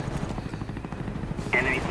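Helicopter in the shooter game Call of Duty: Black Ops, a steady rotor chop thudding beneath game sounds and someone talking, brief and fairly close.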